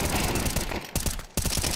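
Pistol fire in a professional Counter-Strike match: rapid shots crack out in quick succession, broken by two brief pauses, loud and close over a steady background.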